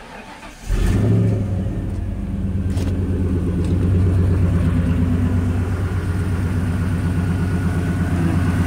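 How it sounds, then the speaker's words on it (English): A Ford Ranger with a swapped-in 5.0 V8 starts up and settles into a steady, close, throaty idle that holds evenly, with a slight rise in the middle and no talking. "I'm going to go ahead and fire it up and get this coolant circulating."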